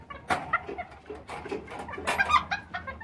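Young rooster at a breeding farm, a few short, soft clucks and chirps scattered among faint background bird calls, fairly quiet and close.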